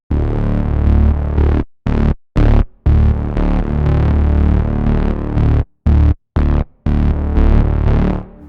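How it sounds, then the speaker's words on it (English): A loud, distorted electronic beat with deep sub bass that cuts out in short gaps, the wash of reverb bursting in and dropping away with each hit. "The reverb is not generally on, but it jumps on with the sub"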